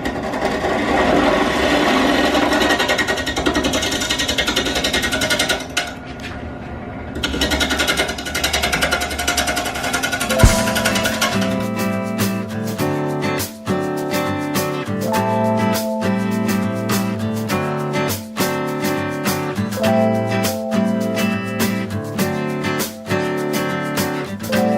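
A wood lathe spins at about 600 RPM while a tool faces the front of a California oak bowl blank. A rough scraping roar gives way to a rapid, loud, rhythmic chattering knock that runs steadily through the rest.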